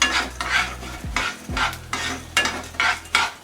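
Cumin seeds fry in a pan over a low flame for curry leaf rice. A spoon stirs them in several scraping bursts, close and moderately loud, over a soft, steady sizzle.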